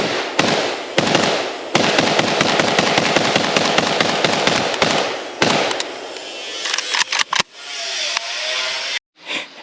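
Loud, rapid bursts of gunfire from a Polish WBP AK-pattern rifle crack in quick succession, then break into a few scattered, echoing shots before stopping.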